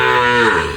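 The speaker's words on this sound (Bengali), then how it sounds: "গরুটা তো ডাকতেছে" A single cow lets out a short, loud, close moo on a farm.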